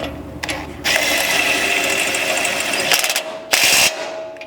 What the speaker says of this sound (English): switching over to a 19, you can come down here and tighten up that remaining bottom bolt